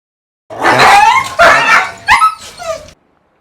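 A group of dogs bark, yip and whimper in quick overlapping bursts close by, a brown dog acting as the pack leader among them, with no talking.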